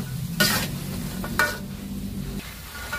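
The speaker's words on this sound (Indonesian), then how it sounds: "Dan ini harus diaduk terus ya, jangan sampai gak diaduk." A spoon stirs a thick cooking mixture in a hot pan, giving a few sharp scraping strokes over a constant soft sizzle of frying.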